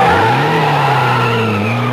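A Ferrari sports car speeds past with its tires skidding, a loud close squeal over a rising, revving engine, heard alone as a radio advertisement sound effect.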